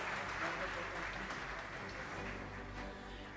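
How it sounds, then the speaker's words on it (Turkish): Steady applause from an audience at an award ceremony, a dense wash of clapping heard at a distance with some voices mixed in. "Alkışlarınızla sahneye davet ediyorum Bengüsü'yü da."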